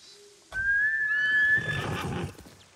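A horse whinnies in the video game Ghost of Tsushima, a loud rising-and-falling neigh lasting about two seconds, with a soft low tone just before it and game ambience underneath.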